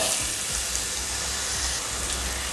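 Guava pieces sautéing in oil with chilli and cumin, a dense continuous sizzle and hiss close by with faint low stirring rumble, no talking.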